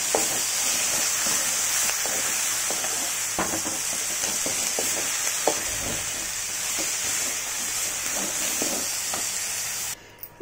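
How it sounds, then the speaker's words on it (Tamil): Mint leaves and urad dal sautéed together in a pan give a steady, close sizzle and hiss, with scattered clicks of stirring throughout and a sudden cutoff at the end. "அதனால் நம்ம வந்து எல்லாத்தையும் ஒன்றா வதக்கிக்கலாம்."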